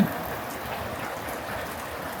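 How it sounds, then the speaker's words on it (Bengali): Steady rain falls outside a tent house, a continuous close hiss of drops hitting surfaces with no voices over it. "দেখছো কি সুন্দর বৃষ্টি"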